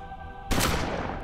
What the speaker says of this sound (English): So we'll do it with the shotgun, then.